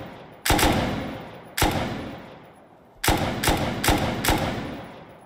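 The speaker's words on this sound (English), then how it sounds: "So I'm going to shoot now." Gunshots in the video game Rust, five loud booming shots with echoing tails, two spaced apart and then three in quicker succession.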